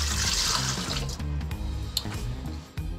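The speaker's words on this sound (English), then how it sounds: "We're gonna do a little over a cup of water." About a cup of water streams steadily into a mixer bowl while classic pizza dough is being made. The pour is close and continuous, with a hissing splash that fades a little near the end.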